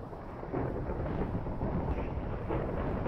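A lightning strike in a video game brings a low, rolling rumble of thunder that swells and fades across a few seconds, with no voices over it.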